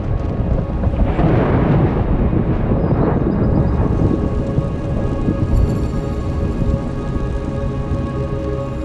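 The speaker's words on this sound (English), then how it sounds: "rolling clouds are signs of an approaching thunderstorm" A mountain thunderstorm with thunder rumbling low and heavy rain pouring down, a dense, steady roar that stays loud throughout.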